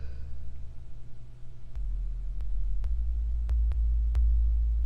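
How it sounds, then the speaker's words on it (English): Deep, booming sub bass notes pulse low and steady, each landing with a soft click, growing slightly louder over a few seconds. "It's kind of like a kick, but it's mostly like a bass, like a sub bass sound."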